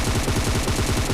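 Rapid burst of automatic gunfire in the PUBG Mobile video game, a quick rattling string of shots, loud and close for about a second.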